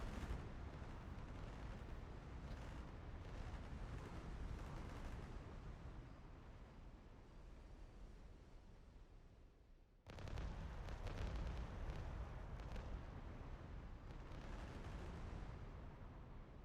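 Bombs dropped from an aircraft explode across a city in the flight simulator DCS, a dense roaring barrage of blasts that fades toward a lull before a sudden loud new wave of explosions bursts in and keeps rumbling.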